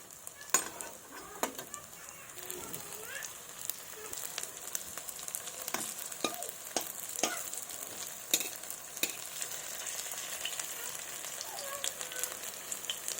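Drumstick and pumpkin pieces fry quietly in a pan, a faint steady sizzle broken by light clicks and scrapes of a utensil turning them, close but soft, with no voices.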